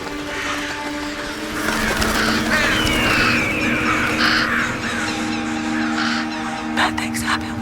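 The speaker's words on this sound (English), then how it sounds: "Bad things happen when the birds gather." Crows caw repeatedly in a film sound effect, several harsh calls overlapping over a noisy ambient bed, fairly loud and near, with a few sharp bursts toward the end.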